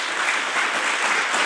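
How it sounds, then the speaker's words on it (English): A crowd claps steadily, a dense burst of applause filling the moment without any voices. "Round of applause."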